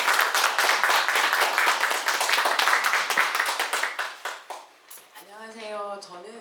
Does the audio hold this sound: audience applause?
yes